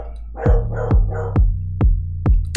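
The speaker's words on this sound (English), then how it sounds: "Yeah, chromatic with the dog sound." A dog barks close by in a quick run of about six sharp, loud barks at a steady, even pace, with no voices over them.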